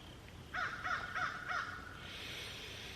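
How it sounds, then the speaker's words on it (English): A crow caws four times in a steady run, the calls fairly loud against a quiet outdoor background, with no one talking. "This crow's annoying."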